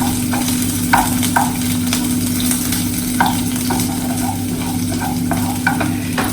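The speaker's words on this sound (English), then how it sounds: "you just want to saute the onions until they get translucent" Plenty of onions sauté in a pan, sizzling steadily at close range while a utensil scrapes and stirs them in repeated short strokes over a constant low hum.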